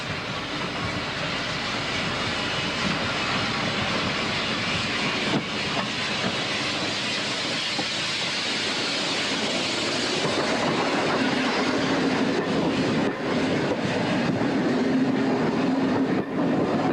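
Austerity steam locomotive working hard while running, a loud, steady roar of hissing steam and rumble with clattering wheels underneath, heard close for the whole stretch.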